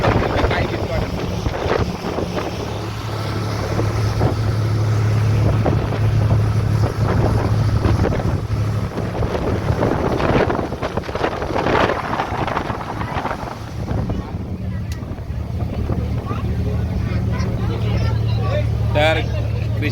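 An M2M ferry crossing the sea from Mumbai to Alibag, with a low, steady engine drone under heavy wind buffeting on the microphone, while people talk throughout.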